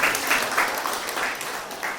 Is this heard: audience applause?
yes